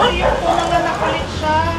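Several dogs bark and yip close by on a street corner, mixed with people talking.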